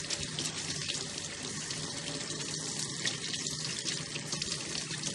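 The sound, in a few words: tap water rinsing pet fountain part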